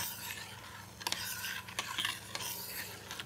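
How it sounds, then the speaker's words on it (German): Spoon stirring gin tonic sherbet liquid with rosemary in a glass or pot, giving soft swishing and a few light clinks against the sides, quiet and close, with no voices. "Gut umrühren."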